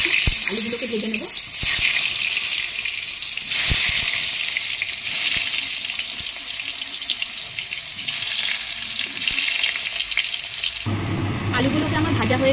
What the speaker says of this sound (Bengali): এবার আমি আলুগুলোকে দিয়ে দিচ্ছি। আলুগুলোকে ভেজে নেব।